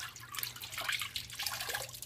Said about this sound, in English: now we're just dipping it in water.